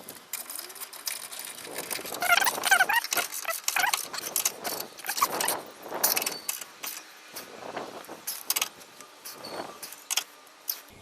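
A wrench tightening recovery point bolts on a Nissan Patrol GU Y61, heard as repeated ratcheting clicks and metallic clanks close by, in irregular bursts with pauses between strokes.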